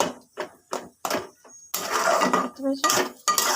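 Eggplant pieces being stirred in a metal cooking pan with spices, with sharp clanks and scrapes of a utensil against the pan in uneven bursts, close up and fairly loud.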